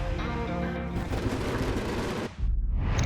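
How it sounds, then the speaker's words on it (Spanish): Artillery shells exploding with shrapnel in a military history program, a dense, loud rumble of blasts and crackling debris that cuts out briefly before a heavy boom rises again. "La metralla de cada una de esas balas llega mucho más lejos que las explosiones que se ven en pantalla."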